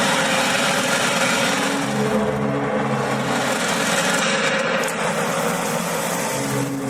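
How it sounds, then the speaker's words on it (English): Loud drill in The Invincible, a steady heavy mechanical drone with a rumbling low hum that runs unbroken throughout, close and dominant. "It's a drill."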